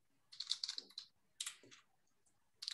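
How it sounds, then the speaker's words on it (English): Quick bursts of clicking keystrokes on a computer keyboard, three short flurries separated by brief pauses, close and fairly quiet. "and a bit of typing"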